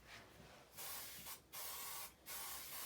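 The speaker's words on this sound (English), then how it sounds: "Right, I'm just going to spray this." Spray glue hisses from an aerosol can in three long, even bursts separated by brief pauses, close and steady, with no talking.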